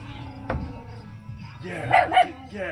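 A dog barks outdoors beside a Blackstone griddle cooking tri-tip and corn on a 111-degree day, with a few sharp barks rising over background noise and voices nearby.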